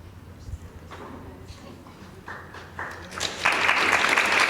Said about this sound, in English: You don't have to clap, we can just keep going.